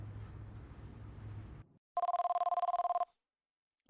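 A telephone rings in The X-Files video game, a loud close electronic trill in one burst of rapid pulses after a low hum and a brief silence.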